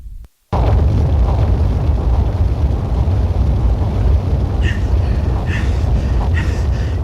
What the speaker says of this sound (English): The church burning to the ground. Walls crumbling